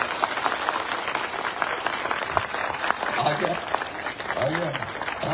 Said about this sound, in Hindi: जो आजाद हो वो एक बार जोर से देर तक तालियां बजाओ